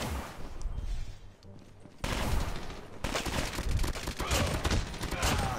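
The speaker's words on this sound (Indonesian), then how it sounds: "Suaranya tuh hilang-hilangan gitu ya PDW-nya" Rapid automatic PDW gunfire in the Call of Duty Mobile video game, loud and continuous and surging in bursts, with the firing getting denser partway through.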